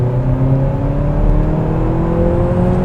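A Renault Talisman with a 225 hp engine accelerates at high speed, giving a loud, close interior drone with steady engine harmonics that climb slowly in pitch, plus road and wind noise underneath.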